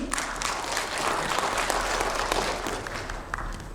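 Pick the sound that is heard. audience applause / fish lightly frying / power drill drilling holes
audience applause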